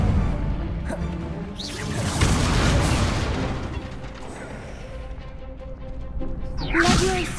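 A spell cast in a Harry Potter wizarding game bursts out as a whooshing, crackling blast amid magical combat, with booming impacts and sharp whip-like cracks rising and falling over several seconds.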